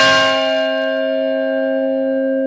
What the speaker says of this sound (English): There are 6 bells here, 4 of which date from 1916, nearly 100 years old.